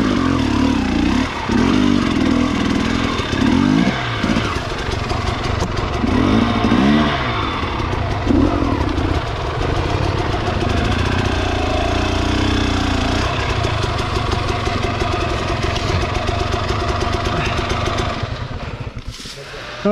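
An enduro dirt bike revs loudly and continuously on a training ride in woods outside Moscow, the engine note rising and falling with throttle blips throughout, near and steady.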